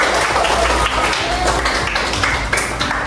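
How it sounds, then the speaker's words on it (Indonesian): An elementary school class claps together for a few seconds in a classroom, a steady wash of applause with some scattered taps, fairly close. "Semuanya tepuk tangan untuk ini."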